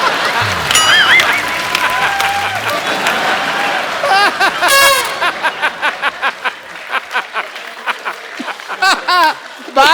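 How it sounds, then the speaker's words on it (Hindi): Studio audience clapping on a comedy talk show, a dense burst that breaks into scattered claps and laughter, with voices and music cues mixed in. "आपने तालियां मारी ना अभी अभी"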